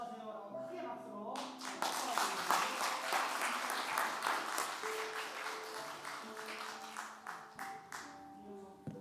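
A church congregation bursts into loud, sustained applause during a Sunday worship service, the clapping swelling quickly and holding steady for several seconds with a few voices mixed in before tapering slightly.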